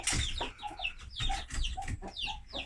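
Hens cluck busily in a steady, overlapping chatter, with a rooster's voice mixed in among the flock, close by and fairly loud.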